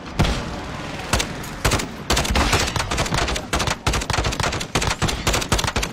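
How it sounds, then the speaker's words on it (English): Gunfire aimed at a helicopter in the video game Call of Duty: Warzone: dense, loud bursts of automatic fire overlapping into near-continuous shooting, broken by brief pauses, close and intense throughout. "I'm just shooting their heli."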